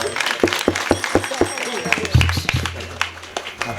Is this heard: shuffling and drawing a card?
no